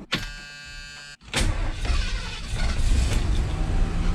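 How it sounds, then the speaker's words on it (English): A Ford F100 engine fitted with Holley Sniper EFI: a brief whirring hum, then a sharp catch as it fires and settles into a loud, steady running rumble close by. "Let's get this thing fired up and take it for a drive down the road."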